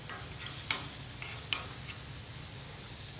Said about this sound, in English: these flank steaks won't take long to cook at all